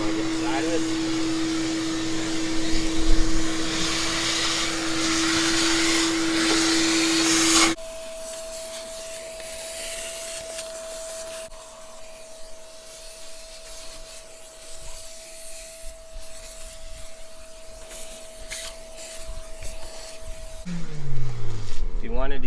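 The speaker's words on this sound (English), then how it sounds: "You can use any shop vac." Shop vac vacuuming out an outdoor AC condenser unit, a loud steady whine with rubbing and scraping noises, then the motor tone shifts to a lower hum while the fan unit runs; someone talks over it.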